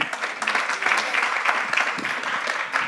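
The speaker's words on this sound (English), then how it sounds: "Can I get a very big applause?" Applause from an audience at a startup pitch event on social inclusion, a dense, steady wash of clapping that holds for about three seconds with no talk over it.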